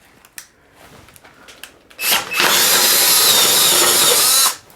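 A few faint knocks and clicks, then a DeWalt power drill in drilling mode whirs loudly and steadily for over two seconds before stopping abruptly.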